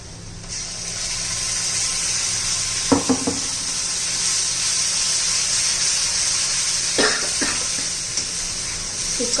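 Ground masala paste sizzles steadily in a pan for a Marathi suran (elephant yam) curry, a loud continuous frying hiss with a few spoon scrapes and stirring knocks, no voices.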